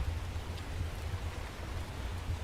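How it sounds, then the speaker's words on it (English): A worsening storm in the video game Stormworks brings steady, even rainfall, a continuous wash of rain noise with a faint low rumble beneath and no talking. "looks like the storm got a ton worse"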